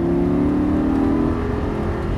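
A car engine revs steadily with a droning, whirring tone, loud and close throughout, like acceleration heard from inside the vehicle during a track driving course at Dreux.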